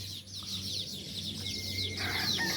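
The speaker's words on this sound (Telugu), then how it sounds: "కిలకిలకిల రావాలండి. ఎంత సందడి చేస్తాయో ముండలు." Weaver birds at their nests in a peepal tree keep up a dense, continuous chorus of high chirps and twitters, busy and fairly close, with no talk.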